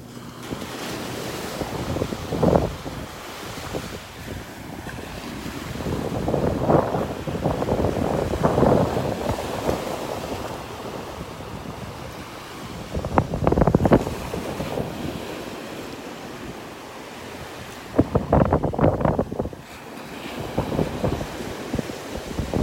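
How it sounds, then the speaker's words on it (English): Small ocean waves wash onto a beach in North Naples, Florida, a steady rolling surf with a few louder breaking swells, under constant wind buffeting the microphone and no talking. "Still got some little waves out here."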